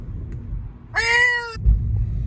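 A cat lets out a single clear meow, close and fairly loud, inside a moving car with a low road rumble underneath.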